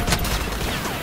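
Dense, continuous burst of blaster fire in a Star Wars Battlefront Walker Assault multiplayer battle, loud and close with overlapping shots and no pauses.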